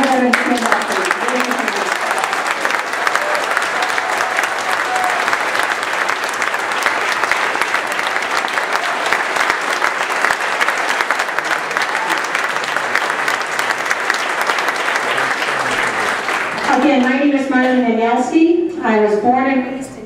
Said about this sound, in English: let us show with a round of applause our thank you for their service